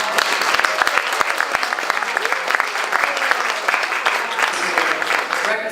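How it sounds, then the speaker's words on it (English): An audience at a diplomatic tea event gives sustained applause for a consul general, a steady, dense patter of many hands with a few sharper claps standing out. "let's give him a round of applause"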